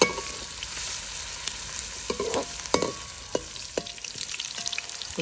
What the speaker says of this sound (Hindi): प्याज थोड़े थोड़े फ्राई हो चुके हैं, ब्राउन लुक देना शुरू हो चुके हैं